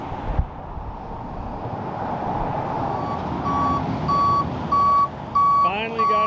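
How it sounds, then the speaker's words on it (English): A tow truck's reversing alarm sounds in a steady series of loud, evenly spaced beeps over a rumbling engine and outdoor road noise, starting a few seconds in and repeating to the end. "Finally got a tow truck."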